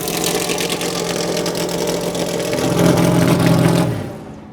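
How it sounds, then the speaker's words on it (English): Race car engines fire up in a NASCAR garage in Kansas, a loud, close, layered mechanical roar with low rumbling tones that builds, swells around the third second, then drops away near the end. "Oh, the cars are starting up."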